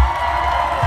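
A live audience at a political rally cheers and applauds in a dense, steady roar of crowd noise that holds at a loud level throughout the short burst, with no distinct voice standing out.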